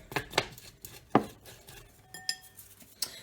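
Bicarb and white PVA glue being mixed for slime in a bowl, giving several sharp, irregular clinks and scrapes of a utensil against the container, close and clear, with no talk.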